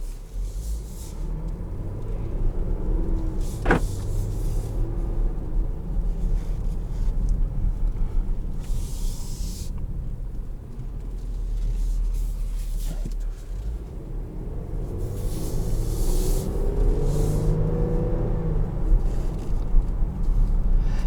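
Inside a moving 2021 Dodge Durango GT Blacktop Edition with a ZF 8-speed automatic, a low engine and exhaust drone hums steadily beneath road and wind noise, swelling slightly toward the end.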